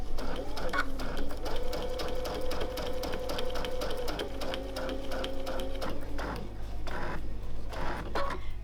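Sewing machine stitching during machine quilting, a close rapid mechanical whirring and clatter running continuously, with a few pauses and speed changes near the end, under soft talk.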